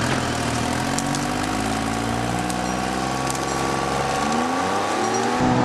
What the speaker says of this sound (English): Like some of you've seen behind me at the loader running